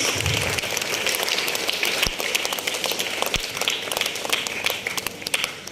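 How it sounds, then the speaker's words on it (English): A school audience at CBR Model High School applauds guests and the principal coming on stage, a dense, even patter of many hands with a few sharper claps standing out, continuing steadily throughout. "All of you give her a big round of applause."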